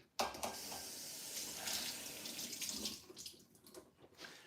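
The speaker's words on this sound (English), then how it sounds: "let me get the bottom of the pot wet" Tap water splashes onto the bottom of a pot held under a faucet, a close, hissing rush that surges and then tapers off into lighter trickling, quiet overall.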